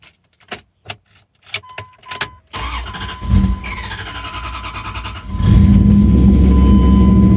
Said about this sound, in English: I'm just pressing on the gas pedal again